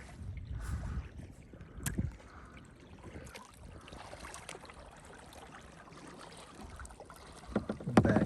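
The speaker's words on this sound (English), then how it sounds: "Paddling with one hand to get the footage." Kayak paddling on Kentucky Lake at night under a full moon, with soft water swishes and dips from the paddle, occasional louder splashes and light wind noise, and no talking.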